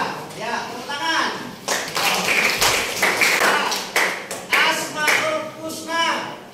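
A class of students claps in short rhythmic bursts during an Islamic religious lesson, with voices talking and chanting between and over the claps.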